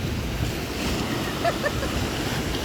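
Ocean waves surge and wash close by on a rough day at Varkala beach, Kerala, mixed with gusty wind buffeting the microphone in a continuous roar.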